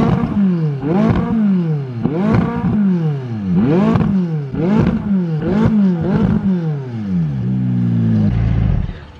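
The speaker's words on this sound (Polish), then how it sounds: "A przy okazji jeszcze odpalimy auto i posłuchasz dźwięku wydechu." A McLaren 570S sports car's exhaust, loud and close, revved repeatedly in about seven sharp, evenly spaced blips, each climbing in pitch then falling away, before settling into a rumbling idle at the end.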